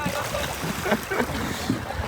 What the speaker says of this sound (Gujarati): હોડી લઈને અહીં ખડા બંદરમાં એનું એન્ટ્રી મારી છે.